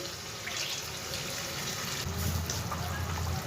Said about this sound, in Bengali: এই পর্যায়ে আমি মশলা ধোয়া জলটা আমি সম্পূর্ণ দিয়ে দিচ্ছি এর মধ্যে।